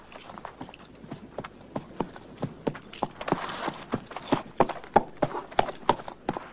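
Hooves clip-clopping in a steady, quickening rhythm, a single horse moving at a trot on hard ground, moderately close.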